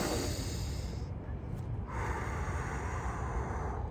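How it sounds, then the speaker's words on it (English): One slow, deliberate deep breath, drawn in audibly through the nose and released, as a calm meditation exercise; close, breathy and fairly loud, with no words spoken. "You can start with like just one mindful deep breath"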